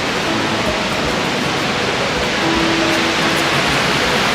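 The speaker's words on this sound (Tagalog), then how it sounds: "Ayan, Snoqualmie Falls dito sa may Snoqualmie Park." A steady, dense roar of falling water at Snoqualmie Falls, loud and unbroken throughout, like standing near a powerful waterfall.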